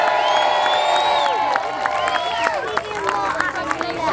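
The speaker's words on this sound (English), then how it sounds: "Big cheer for everyone who's helped me out tonight" Festival crowd at Richmond Live cheering for an escapologist: a loud, close burst of whoops and shouts over busy babble, fading into scattered voices and chatter.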